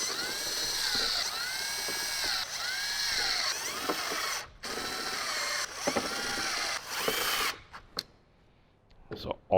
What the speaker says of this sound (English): So go ahead and just screw these all in.